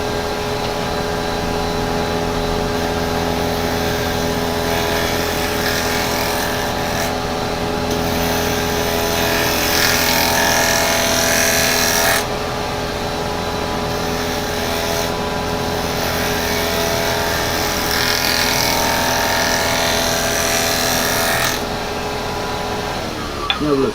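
Wood lathe turning a firewood blank at about 2,500 RPM, a loud, steady motor whine with strong harmonic hum and broadband rushing as the gouge cuts, swelling and easing in stretches.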